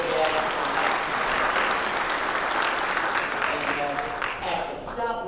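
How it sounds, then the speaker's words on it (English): An audience at a conference general session applauds loudly and continuously, a dense close wall of clapping that thins slightly toward the end as a few voices come through. "so give him a round of applause at the end of the day"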